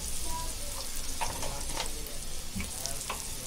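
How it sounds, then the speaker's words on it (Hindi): Softened onions with a teaspoon of turmeric sizzling in hot oil in a pan for a Konkani tuvar dal, with steady close crackling and occasional scraping stir strokes, no talk. "अभी हल्दी डालेंगे, 1 टीस्पून हल्दी डालेंगे।"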